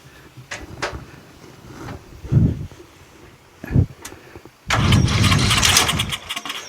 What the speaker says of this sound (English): And it's starting to crank a little better.